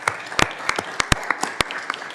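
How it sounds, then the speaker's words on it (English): Sparse applause in a congressional committee hearing room, a few people clapping with distinct individual hand claps scattered unevenly, close and moderately loud. "if you don't mind giving him a round of applause for his help and professionalism"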